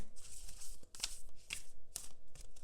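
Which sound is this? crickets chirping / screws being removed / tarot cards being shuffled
tarot cards being shuffled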